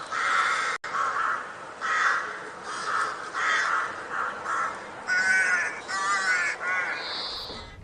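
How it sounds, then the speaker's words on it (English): A crow caws repeatedly at close range, about seven or eight harsh, evenly spaced calls with brief gaps, loud and clear against a quiet background. "What is this? A crow."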